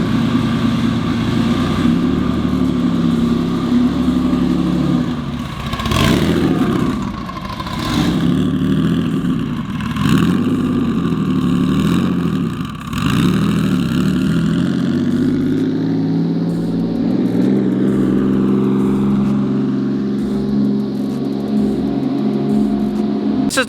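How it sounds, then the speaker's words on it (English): A turbocharged H6 swapped into a Subaru WRX STI idles close by with a steady, loud rumble, a few brief throttle swells breaking the even drone before it settles again, with no talking. "I'm just kind of letting it idle right now."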